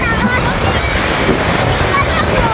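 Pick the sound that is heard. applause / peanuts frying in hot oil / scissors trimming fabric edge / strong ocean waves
strong ocean waves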